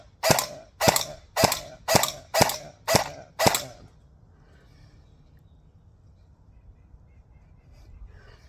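Electric BB rifle firing at cans: seven sharp, evenly spaced snapping shots in quick succession, close and loud, followed by quiet outdoor ambience.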